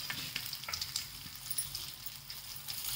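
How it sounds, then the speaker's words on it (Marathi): Spice tempering of cloves, fenugreek seeds and stone flower crackles and sizzles steadily in hot oil in a pan while being stirred, a soft continuous hiss with small pops and scrapes. "आणि चांगलं हलवून घ्यायची फोडणी।"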